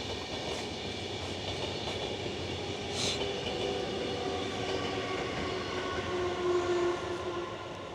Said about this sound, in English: hold on, train break.